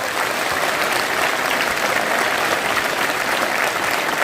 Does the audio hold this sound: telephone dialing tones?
no